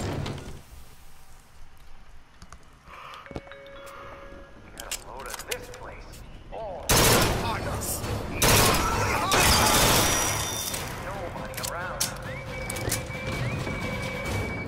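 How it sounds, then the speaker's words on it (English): A horse whinnies amid loud clattering and banging noises, with sudden bursts of sound partway through. "Oh, I know that sound. You want a horse."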